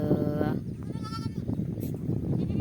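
Goats bleat repeatedly at a shepherd's outdoor farm pen, their wavering cries overlapping against a steady background rumble.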